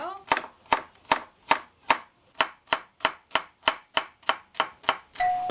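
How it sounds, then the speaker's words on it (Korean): Zucchini being cut into thin julienne strips with a kitchen knife on a board: about fourteen sharp, evenly spaced chops, close and crisp, in a steady brisk rhythm, no talking. "애호박 채 썰어 볼게요. 가늘게 채 썰어 주세요."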